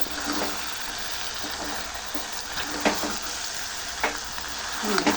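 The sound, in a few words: stirring goat tripe curry with chili powder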